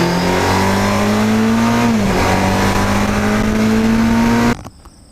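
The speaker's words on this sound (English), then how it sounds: "It does rev high." Stock sport touring motorcycle engine revving high, a loud sustained whine and roar near the microphone holding for about four seconds, with a slight dip partway through, then cutting off abruptly.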